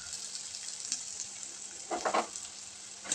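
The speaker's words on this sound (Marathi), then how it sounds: "आणि तेलामध्ये छान बटाटे परतून घ्यायचे." Boiled potatoes sautéing in oil for a dry potato dish, a soft continuous sizzle with a few brief louder stirring scrapes near the middle and end.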